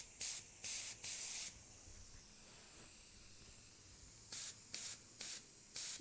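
Short bursts of aerosol spray paint hiss across the face of a painted goddess statue, three quick blasts, a pause with faint background, then four more close, crisp bursts.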